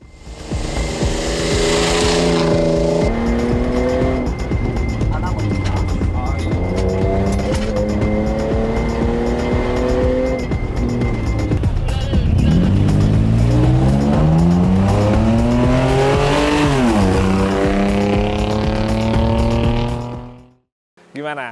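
A Toyota Prado 150 race car with a V6 engine, competing in the Asia Cross Country Rally, roars close by with rising and falling revs through shifts, tire squeal and a hard climb before cutting off abruptly.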